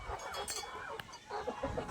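A chicken clucks softly in short, repeated bursts, faint and a little distant.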